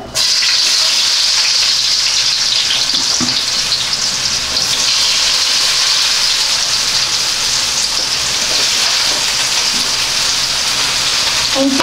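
Chopped onion frying in hot oil for gobi manchurian, a loud, steady sizzle and crackle that fills the whole stretch, with a faint stir or two of the pan and no talk.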